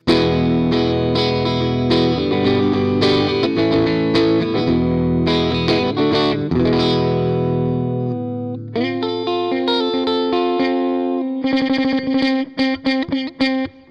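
Bright electric guitar on the middle position with both pickups at full brightness, playing chords and single notes with a slightly distorted, effected tone, strumming steadily, then sparser picked notes and sharp strums at the end.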